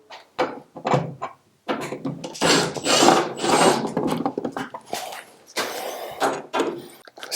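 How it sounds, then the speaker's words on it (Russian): Hand tools unscrewing fasteners on Panasonic heat pump equipment during installation of a CZ-NV1 switching valve: a series of close, loud scraping, rasping and ratcheting bursts separated by short pauses. "Начинаем откручивать."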